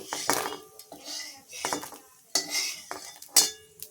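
Fried edible gum being scooped out of hot ghee onto a plate for fasting laddoos, with several sharp metal spoon scrapes and clinks against the pan and plate, close and clear over a faint background.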